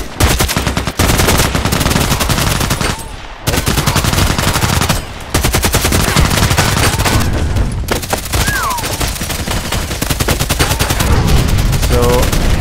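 AK-12 assault rifle fire in the shooter game Contract Wars, loud rapid automatic bursts rattling almost nonstop with a couple of brief pauses, close and dominant.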